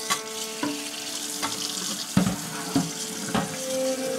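Air-fried food is rinsed under a running kitchen tap, giving a steady close hiss of flowing water with occasional splashes and clunks in a sink, and no talking.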